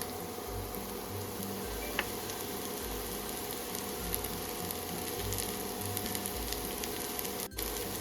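Chhechi greens fry with onion in a pan, giving off a steady, even sizzle and hiss that holds throughout, with no talking.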